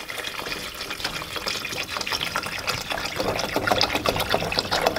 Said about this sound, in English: then we'll add some water